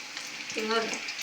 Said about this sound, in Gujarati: ધીમા ગેસે તળવા દઈએ